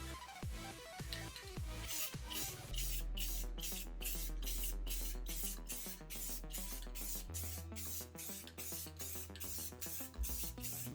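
Matte clear coat sprays from an aerosol can onto a PS5 console panel in rapid, rhythmic bursts, a loud close hiss pulsing back and forth with steady passes.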